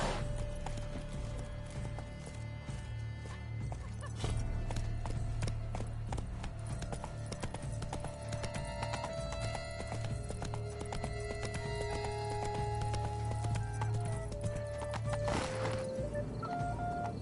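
Horse hooves clop steadily at a quick gait in the game The Witcher 3: Wild Hunt, Blood and Wine, a continuous close rhythmic clatter under game ambience and music tones, with a brief whinny.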